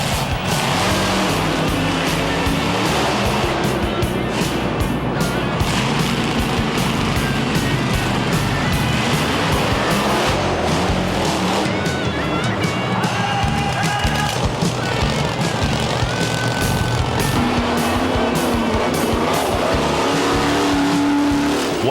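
Gravedigger monster truck roars and revs loudly through a show arena, engine noise continuous and dense with tire squeal and skids, crowd and announcer sounds faintly mixed beneath.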